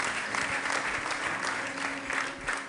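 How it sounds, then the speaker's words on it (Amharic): A church congregation breaks into lively applause with ululation running through it, a dense, rippling clapping with a faint sustained tonal wail underneath. "እልልታ ጭብጨባ ለጌታ ክብር።"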